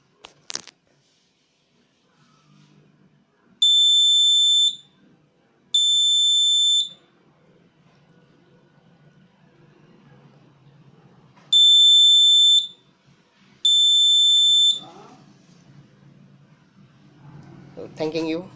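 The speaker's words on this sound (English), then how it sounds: "When it is motor on, it will give you two buzzer indications." An automatic plant watering system's buzzer sounds four high electronic beeps in two pairs, each tone about a second long, with quiet background noise and a voice near the end.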